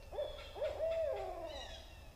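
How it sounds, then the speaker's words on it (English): A barred owl hoots in a short series of rising, wavering calls from a campground woodland, moderately near and alone with no talk. "That's a barred owl."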